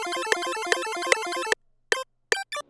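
Bright layered synth arpeggio from a hyperpop beat, a steady run of plucky stacked notes with accented hits, then cutting to silence and a few isolated stabs, loud and alone.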